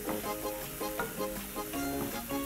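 Onion fries in a spoonful of oil and butter with pieces of mastic, a close, continuous sizzle with soft bursts of stirring, no voices.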